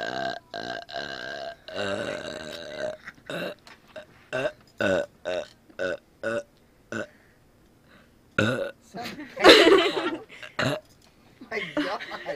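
A long, drawn-out burp forced up in strained bursts, loud and close, broken by pauses, with talking and breathy laughter between the attempts.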